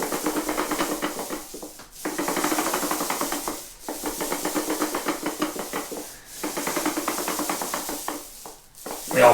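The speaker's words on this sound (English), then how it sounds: "The old pole sounds a bit rattly there." A worn, rattly extension pole drives a paint roller over a wall. It makes a rhythmic rasping, rubbing sound in repeated strokes with short pauses between passes, close by.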